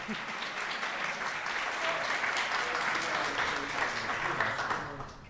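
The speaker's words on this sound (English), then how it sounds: "Keep the round of applause going." A crowd applauding steadily, a dense wash of clapping that holds strong throughout and tapers slightly at the end.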